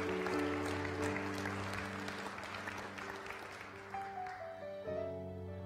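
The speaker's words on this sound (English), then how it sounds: "give him a hand clap of praise in this house today" Church congregation clapping their hands in praise, a dense, sustained burst of applause that gradually thins, with held organ or keyboard tones ringing underneath.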